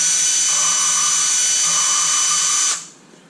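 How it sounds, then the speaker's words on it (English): A steady high whirring tool note, close and loud, stopping abruptly near the end. The work is valve grinding with lapping compound on a 2002 Toyota Camry cylinder head. "when you stop hearing it grind, you let it down and then pull it back up"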